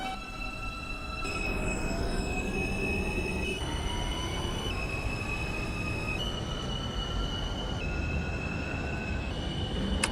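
An R160B subway train in the OpenBVE simulator, rolling along the track with a steady rumble, rising and falling whining tones and high wheel squeal, loud and continuous with no voices.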